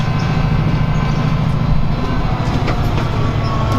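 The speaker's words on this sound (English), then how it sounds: "I think that's train 1R21, the 1125 off Leamington." A train passes Leamington railway junction on the Chiltern line, a loud, steady mechanical rumble that holds unchanged from start to finish with no talking.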